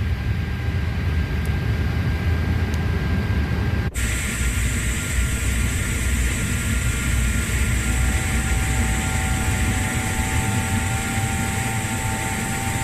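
An Airbus A330 engine spools up in Microsoft Flight Simulator 2024, a steady loud roaring whine that jumps in intensity partway through and then holds as a sustained drone, with no talk.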